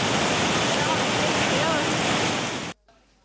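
Water roars out through the 20 opened spill gates of the Tabbova reservoir after heavy rainfall, a loud, dense, continuous rushing that cuts off abruptly near the end.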